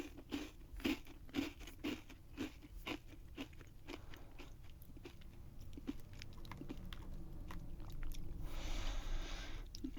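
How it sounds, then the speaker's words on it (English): Close, crisp crunching of a sweet, cereal-like snack, with a quick run of sharp bites and chews that gives way to softer, muffled chewing and rustle. "Kind of tastes like a cereal, the outside crunchy part."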